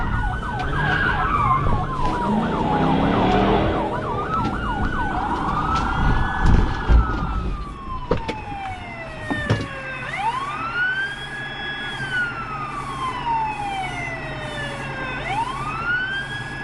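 Emergency vehicle sirens wailing and sweeping up and down over road traffic during a police chase, several sirens overlapping, loud and near then continuing with repeated rising wails.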